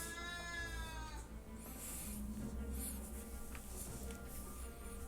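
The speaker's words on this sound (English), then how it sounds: "You just walk up behind me and go meow?" Coconut the cat meows once at the start, a wavering cry over a steady low hum, followed by faint higher chirps and background noise with no speech.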